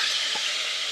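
Ginger garlic paste hits hot oil with onions in a pressure cooker pan, a bright continuous sizzle with a soft clunk partway through, close and steady.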